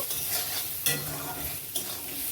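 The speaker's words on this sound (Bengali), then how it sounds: "এই সমস্ত কিছুকে একসঙ্গে কষিয়ে নেব" Spice masala with salt, turmeric and red chili powder sizzles in a pan while being stirred, giving a close, steady frying hiss with a couple of sharp scraping strokes.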